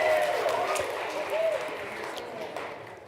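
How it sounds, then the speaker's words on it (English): An audience at a live event claps in a dense, sustained round of applause that slowly fades, with crowd murmur and a voice audible over the clapping. "So let's clap again for Alex."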